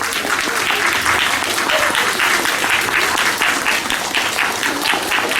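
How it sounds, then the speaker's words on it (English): Loud, dense audience applause for teachers at a Teacher Day school assembly, many hands clapping steadily and continuously for several seconds from a large crowd. "Let's give them a big round of applause."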